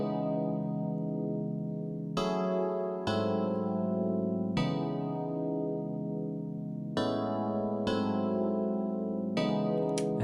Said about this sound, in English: We're going to start with the FM piano keys because that's the vibe of a G-Funk.